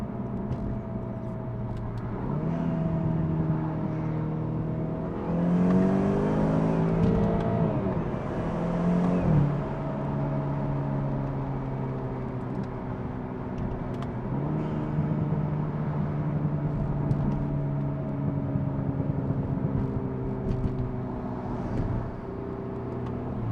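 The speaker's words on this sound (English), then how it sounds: "you open up the exhaust valve and it really, really sounds good" Interior sound of a BMW 328i F30 fitted with a valved axleback exhaust and resonator delete: a steady engine drone rises into a strong revving surge as the car accelerates, then settles back to a deep cruising hum.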